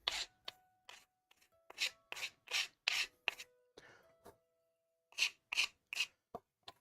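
The coarse side of a rasp files a wooden spoon during hand carving in short, gritty rubbing strokes, several quick bursts, a pause, then another run of strokes, close and fairly loud.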